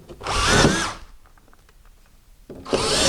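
A power drill drives screws into a drywall sheet fixed to studs, two loud close whirring bursts with a quiet pause of small clicks and handling between them; no talking.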